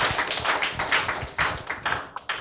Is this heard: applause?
yes